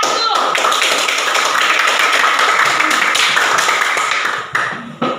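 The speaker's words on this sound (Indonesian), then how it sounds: "Berarti kita beri aplaus kepada kelompok 1" A class of students applauds a group after its presentation, a dense steady clapping that fills the room for about five seconds before trailing off in a few last scattered claps.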